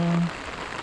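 Heavy rain pours down in Kinarambo during flooding, a brief, steady wash of dense hiss, with a short tonal hum fading out at the start.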